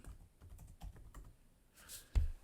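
A computer keyboard clicks through a quick run of separate keystrokes as a word is typed, followed by a brief pause and one firmer key tap at the end, close and fairly quiet.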